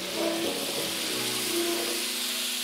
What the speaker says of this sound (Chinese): 一面煎至金黄后就可以给它反面了。